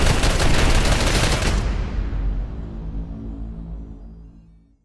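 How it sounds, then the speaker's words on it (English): A sentry turret in Call of Duty: Black Ops Cold War fires a dense, rapid burst for under two seconds, then rumbling echoes and reverberation fade out over several seconds. "Sentry turret locked and loaded."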